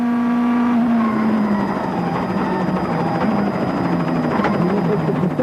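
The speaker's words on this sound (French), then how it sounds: "214 km/h pour les frères Panizzi, juste avant ce freinage." A rally car at the 2003 Catalonia Rally brakes hard from 214 km/h on a fast straight. Its loud, near engine note slides steadily downward, with a little tire noise.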